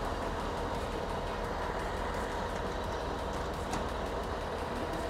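A fire engine pump drafting water throttles down, a dense, steady low rumble of engine and pump running continuously at close range, with no voices.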